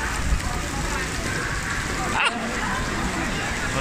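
A heavy rainstorm pours down outside a convention venue, making a dense, steady hiss of rain on surfaces that stays constant and close throughout, with people talking beneath it.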